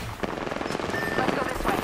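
Video game gunfire crackles in a rapid burst of shots, mixed with in-game voices calling out during a firefight.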